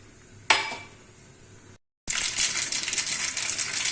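Mustard seeds are dropped into hot oil in a kadhai for tempering: a sharp clatter, then after a brief silence a loud, dense crackling sizzle fills the rest.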